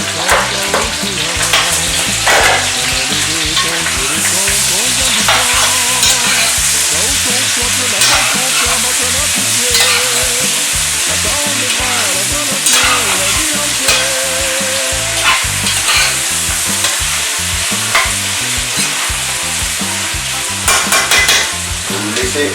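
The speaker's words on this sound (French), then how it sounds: "J'ajoute ensuite les oignons." Onions sizzle loudly in a pan with smoked pork for a Réunion-style eggplant dish. The frying hisses continuously and close up, with frequent stirring scrapes throughout.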